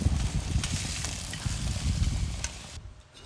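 Mushrooms and peppers stir-fry in a wok over a Weber barbecue with a steady, close sizzle and occasional scraping stirs, ending with a quieter moment.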